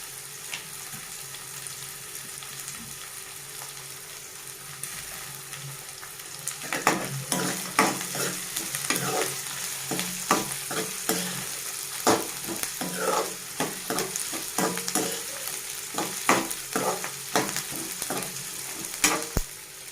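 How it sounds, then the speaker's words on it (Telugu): Onion and cashews frying in oil for tomato bath: a soft, steady sizzle at first, then from about seven seconds repeated sharp scraping and clacking of a spatula stirring in the pan, close and fairly loud, with no talking. "ఆనియన్ కొంచెం ఫ్రై కావాలండి"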